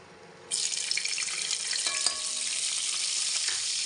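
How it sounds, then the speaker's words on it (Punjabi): Garlic dropped into well-heated oil for a Punjabi pea and potato tadka, bursting into a loud, steady sizzle that starts abruptly and holds through to the end, with a few faint clinks of a utensil against the pan. "ਤੇਲ ਆਪਣਾ ਚੰਗੀ ਤਰ੍ਹਾਂ ਗਰਮ ਆ ਇਹਦੇ ਵਿੱਚ ਹੁਣ ਆਪਾਂ ਲਸਣ ਐਡ ਕਰ ਦਿੰਨੇ ਆ"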